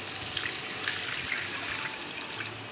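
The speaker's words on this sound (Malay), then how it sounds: "Kemudian kita masukkan air rebusan tulang tadi yang kita dah buang lemak dia." Bone broth, skimmed of fat, being poured into a pot of beef bone curry, a steady close splashing trickle of liquid running continuously.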